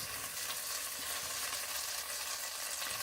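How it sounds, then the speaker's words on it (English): Defrosted potatoes frying in a pan for potato soup, giving a steady, close hiss and sizzle with faint stirring scrapes throughout, no talking. "the pan and fry them a little bit."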